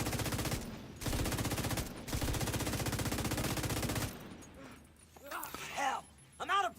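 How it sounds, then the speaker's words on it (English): A minigun firing in a video game, rapid continuous bursts roaring for about four seconds with two short breaks, loud and close, then stopping as a voice talks over quieter game sounds. "I always wanted to use a minigun."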